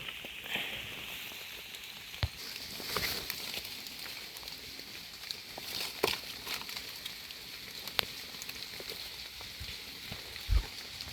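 Soft rain falls through a forest at Nong Mek during mushroom picking, a faint steady patter with scattered louder drops landing close by.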